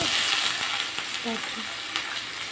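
Bitter gourd frying in oil, a steady soft sizzle running throughout at moderate level, with faint stirring clicks and brief utensil sounds.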